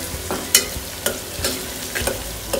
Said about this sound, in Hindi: अब मैं इसमें ये जिंजर गार्लिक डाल देती हूँ। इसे भी अच्छी तरह से फ्राई कर लेते हैं